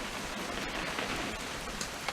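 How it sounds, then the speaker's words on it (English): Steady rain falls in the video game What Remains of Edith Finch, an even, moderately loud hiss of drops with a couple of brief sharper patters and no voices. "It's gonna rain the whole weekend, isn't it?"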